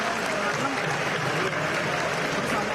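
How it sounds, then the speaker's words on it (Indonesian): Steady audience applause fills a crowded hall at an Indonesian political party gathering, a continuous even wash of clapping throughout. "Kita berikan tepuk tangan."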